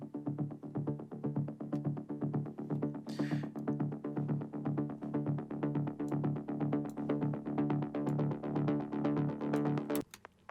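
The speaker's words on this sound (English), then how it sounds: "It's kind of a deriving bass, and it sounds like this." Driving techno bass line: a steady, pulsing synth bass that repeats in tight sixteenth-note rhythm, loud and continuous, with a short noisy sweep early on and an abrupt stop near the end.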